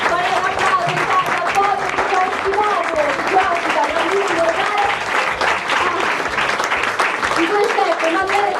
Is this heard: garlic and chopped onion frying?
no